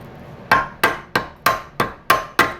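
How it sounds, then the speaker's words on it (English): A chipping hammer strikes thick rust on a 2010-2013 Kia Soul brake bracket: seven sharp metallic knocks in a steady rhythm, close and loud, each ringing briefly before the next, with no talking. "If I just take a chipping hammer, look at how thick this is."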